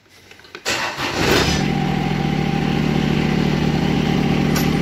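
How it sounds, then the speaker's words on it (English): A John Deere X758 lawn tractor's glow-plug engine makes a cold start: a short crank, then the engine catches and settles into a steady, close, loud idle. "I'm gonna start it again. I consider it cold start. Let the glow plugs work again."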